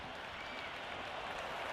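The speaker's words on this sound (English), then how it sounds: "There's a buzz, a real buzz coming from the stands" Steady crowd buzz from the stands in the Cricket 26 video game during a Pakistan vs England T20 match, a dense, even roar of cheering and applause-like noise throughout.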